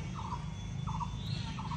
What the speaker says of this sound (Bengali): পাখি কিন্তু ডাকতেছে।